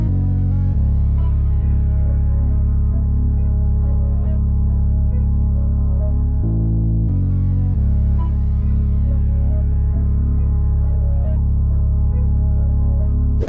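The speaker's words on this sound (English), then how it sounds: "I added in this other instance of BNYX, which is also a lead, and it's called Analog Bird." Analog Bird lead preset from the BNYX synth, EQ'd to cut lows and highs, playing a steady sustained melodic line over a continuous tonal bed, loud and unbroken with a brief pitch change midway.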